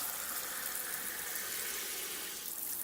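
One cup of water pouring into a pan on the stove for churro dough, a steady hissing splash that runs continuously with no talk.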